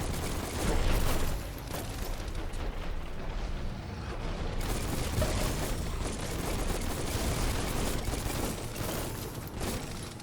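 Continuous gunfire and impact noise while shooting at boils on enemies in the video game Biomutant, a dense, rumbling barrage of shots and blasts that runs the whole time with no pauses.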